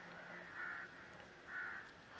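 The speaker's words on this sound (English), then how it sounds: "Fucking crows" Crows caw in a video game, two drawn-out harsh calls about a second apart, moderately loud over a faint ambient background.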